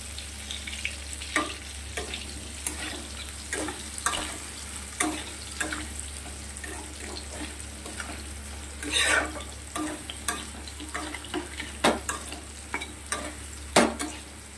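Paneer and potatoes fry with cloves, dried chillies and peppercorns in a pan, a low steady sizzle broken by sharp, close spatula scrapes and clinks at irregular intervals, no talk.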